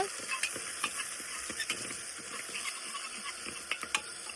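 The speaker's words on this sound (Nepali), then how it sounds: "तेल अनि त्यसपछि अलिकति मेथी अनि प्याज गरेर हालिसक्यौँ अब यसरी चलाइन्छ" Oil, fenugreek seeds and chopped onion being stirred in a pan, giving scattered scraping clicks over a steady soft sizzle, fairly quiet and close, with no talking.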